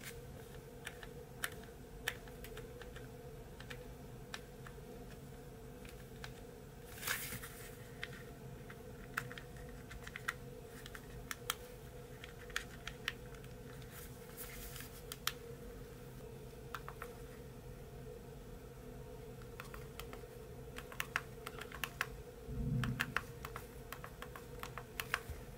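Typing on a Power Vessel PV-K01 wireless media keyboard: a steady run of light, rapid key clicks for about 25 seconds, close and fairly quiet, with a few louder taps and a brief thump near the end, no talking.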